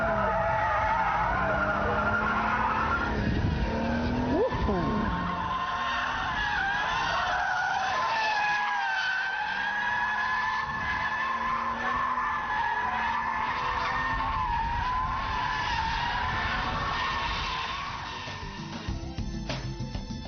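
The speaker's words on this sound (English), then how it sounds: "Power slides are a bit trickier than donuts, but then they are more fun too." A BMW Z3 M Roadster power-slides around a large open square, its tires squealing in long, loud, wavering skids over a continuous engine roar that swells and dips as the car slides.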